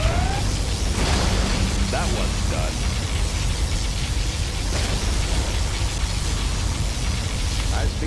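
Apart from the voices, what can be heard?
particle cannon firing and explosions in Command & Conquer Generals Zero Hour video game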